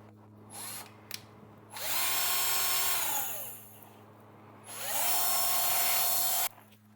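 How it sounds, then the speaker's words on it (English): A power drill bores into epoxy resin while a realistic resin cake is being made, in two long steady whirring runs that spin up and wind down, loud and close, with short handling knocks between them. "We drill here."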